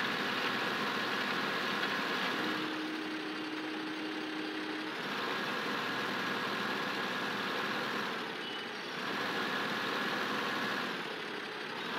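A tractor plowing a field in Farming Simulator 15, a steady mid-pitched engine drone that holds its level with slight swells in loudness, close and continuous with no voices.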